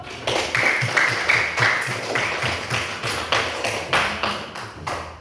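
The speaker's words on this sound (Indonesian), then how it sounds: "Tepuk tangan dulu untuk" A classroom of pupils claps together in a rhythmic, patterned beat of sharp, fairly close claps repeating steadily, with a chanted voice faintly joining in.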